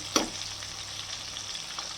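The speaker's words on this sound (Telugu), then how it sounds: "ఉల్లిపాయలు పచ్చివాసన పోయే వరకు కొద్దిగా వేగినాక బ్రింజాలు వేసుకుంటామా" Onions and brinjal frying in hot oil, a steady close sizzle with one sharp stir or clatter near the start and a faint scrape later.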